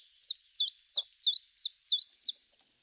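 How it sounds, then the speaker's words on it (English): A chiffchaff sings a run of seven bright, high chirps in a quick, even rhythm, clear and close against a silent background. "So this is obviously the chiff-chaff."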